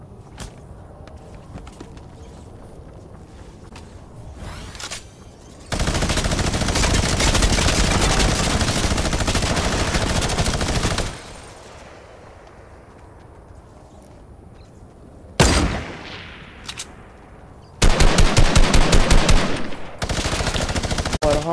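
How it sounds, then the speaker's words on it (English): Minigun fire in the Fortnite video game, loud sustained bursts of rapid gunfire in several long stretches, separated by quieter gaps and shorter rattling volleys. "You're allowed to have a minigun right now."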